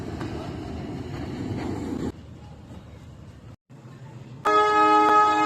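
A meter-gauge train rumbles along, then quiets briefly while departing a station before a loud, sustained horn-like tone rings out at the end. Some faint voices mix in.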